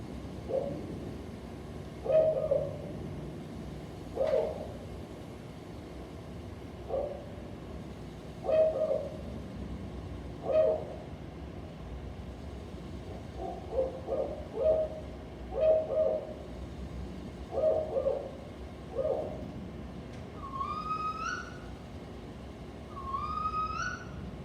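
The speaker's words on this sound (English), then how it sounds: "Spotted owl." A spotted owl gives a series of low hoots in repeated clusters over a quiet nighttime backdrop, with a few higher calls near the end; moderately distant, no talking.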